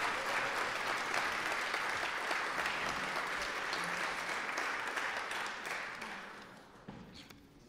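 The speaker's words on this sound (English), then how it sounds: "let's give them a big round of applause for their patience" Applause from an audience at an arts awards ceremony, dense continuous clapping from a crowd that is fairly soft and distant, slowly fading out toward the end.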